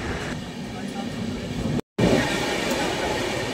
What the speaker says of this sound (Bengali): আমাদের ট্রেন কিছুক্ষণের মধ্যেই বর্ধমান স্টেশনে ঢুকবে না, ইতিমধ্যে ঢুকে গেছে ইঞ্জিন।